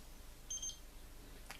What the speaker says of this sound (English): double beep tells me I've stopped.